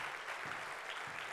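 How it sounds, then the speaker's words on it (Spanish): Church congregation applauding during a Spanish-language worship service, a short, steady wash of many hands clapping at moderate distance, filling the room without any voices over it. "eso merece un aplauso bien fuerte"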